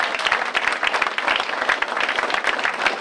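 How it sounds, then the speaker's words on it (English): An audience breaks into dense, steady applause for a guest at a mayor's celebration speech, with many hands clapping together in a continuous, fairly loud wash for about three seconds. "Let's give him a round of applause."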